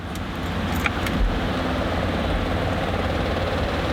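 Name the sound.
Datsun 260Z engine starting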